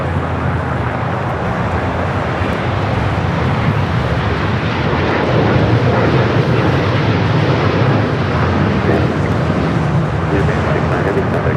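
An Emirates airliner taxiing to the gate at Bradley International, LAX, with a loud, steady jet engine roar filling the whole stretch without easing.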